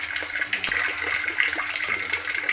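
Water gushes steadily from the tap on a fish pond pump outlet, a continuous close splashing hiss with no voices over it.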